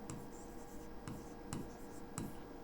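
Pen on paper during a Class 9 maths lesson as a surface-area problem is worked. The scratching is soft and steady, with a few sharper strokes at regular intervals. It sounds close and quiet, and nobody talks over it.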